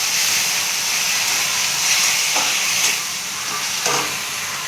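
Boiled tomato being stirred in a cooking pan, heard as a steady steamy hiss with a few soft scraping strokes near the end, fairly loud and close with no one talking.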